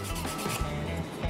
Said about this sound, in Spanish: Vamos a lijar nuestra cresta.